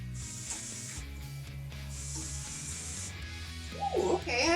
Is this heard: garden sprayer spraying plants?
yes